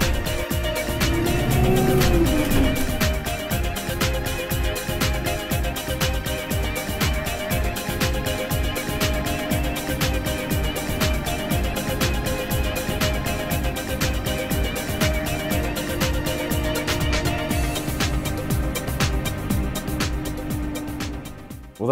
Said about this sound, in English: that was an enjoyable drive in the Enviro 200.